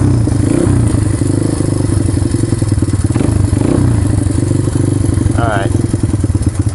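Honda XR200R dirt bike on full choke during a cold start, engine running loud and close with a rough, uneven idle, then quick revving blips and some metallic clatter and thumps.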